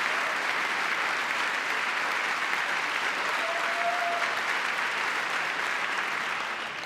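Steady, dense applause from a large audience fills the space evenly, with no voices breaking through and a slight fade near the end.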